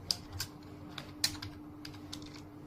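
Typing on a computer keyboard to enter a command for switching Python versions, a few sparse, light key clicks at a steady desk distance over a faint low hum, with no talk.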